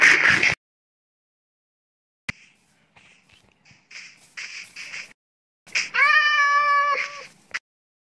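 A Minecraft cat lets out a drawn-out, tonal meow near the end, after scattered soft game noises and a sharp burst at the start, with long silent gaps between sounds.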